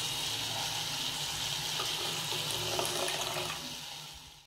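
Tamarind water being poured into already cooked lentils for radish sambar, a steady continuous liquid splash and flow that stays even for several seconds before tapering off at the end.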